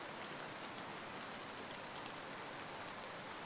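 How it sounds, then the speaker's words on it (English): Steady rain drums against the windows of a split-level house, a dense, even hiss of drops with no pauses, soft and constant throughout. "Rain drummed against the windows of my parents' split-level house"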